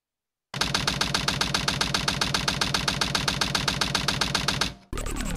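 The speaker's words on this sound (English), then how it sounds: "Green light for launch." A spacecraft's primary engine ignites in a Sonic video game, bursting in abruptly after silence into a loud, rapid mechanical pulsing that holds steady for about four seconds, then dips and shifts into a different roar.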